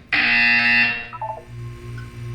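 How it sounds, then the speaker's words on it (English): A loud electronic buzzer in the video game Portal 2 blares for about a second, followed by a short descending chime and a low hum. "When you hear the buzzer, look up at the ceiling."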